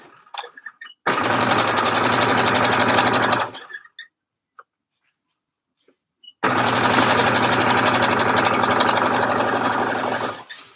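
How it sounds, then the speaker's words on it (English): A sewing machine stitching jersey stretch fabric runs in two steady, rapid bursts of a few seconds each, separated by a quiet pause, close and loud. "your sewing machine sounds a little squeaky"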